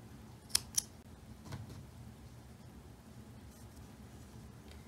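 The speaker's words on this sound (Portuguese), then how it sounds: "Vou cortar o fio." Scissors snip through crochet yarn at the end of an amigurumi tiara cord, two quick, sharp close cuts early on, then a quiet room.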